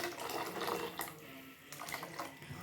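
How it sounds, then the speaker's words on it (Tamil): Tamarind water pouring and splashing into a cooking pot in a continuous stream, fairly quiet, with small shifts as the flow changes. "புளிக்கரைசல் ஆட் பண்ணிடலாம்."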